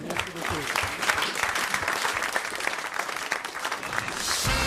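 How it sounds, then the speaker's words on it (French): Studio audience of a French radio comedy show applauds a contestant, a dense run of clapping with some voices mixed in beneath it. "On vous applaudit"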